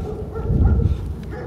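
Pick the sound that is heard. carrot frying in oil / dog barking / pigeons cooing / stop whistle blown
dog barking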